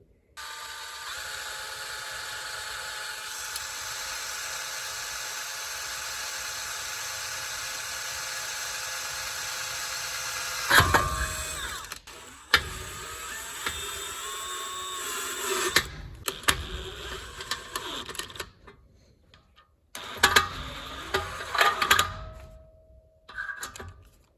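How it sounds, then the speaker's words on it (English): A power drill whirs in sustained bursts while drilling screw holes for a homemade forge, stopping and restarting several times, close and fairly loud, with quiet gaps between runs. "now I'm just gonna take this apart and drill the holes for the screws separately"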